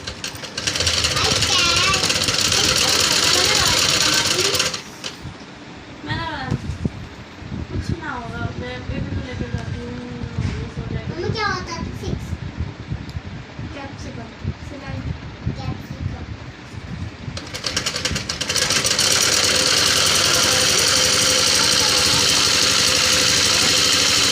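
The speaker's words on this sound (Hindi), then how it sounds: "हमारी मशीन जो है वो थोड़ा ज़्यादा आवाज़ कर रही है।" Sewing machine stitching a frock, running loud and rattly in long steady bursts that stop and restart, with a voice talking during the quieter middle stretch.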